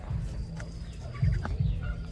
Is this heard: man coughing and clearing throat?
no